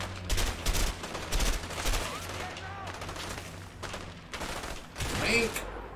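Gunfire in the Army of Two video game, bursts of rapid shots and scattered single cracks over a steady rumble of game sound, while players talk over the action.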